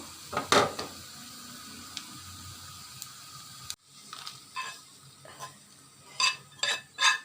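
Fried onions and green chilies scraped and poured from a pan onto a plate, close scraping and clinking of a spatula in short bursts, with a faint fry sizzle early on and a few sharp metallic scrapes near the end.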